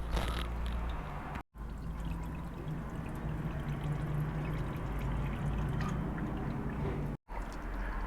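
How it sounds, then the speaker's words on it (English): Used, blackened engine oil draining from a car's sump into a pan, a continuous close pouring and trickling wash that holds steady throughout. "Right, so that's just starting to drip a little bit."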